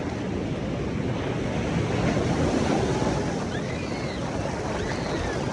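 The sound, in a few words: sea waves breaking on beach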